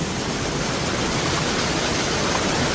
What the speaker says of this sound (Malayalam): ഇതാണ് ഉരക്കുഴി വാട്ടർഫാൾസ്